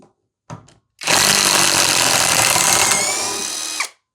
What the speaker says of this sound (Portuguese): Agora com a chave de impacto.